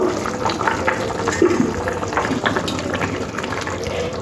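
Water pouring into a cooking pot of taro, potatoes and hilsa fish heads, a steady close splashing fill that runs loud and continuous throughout, with no speech.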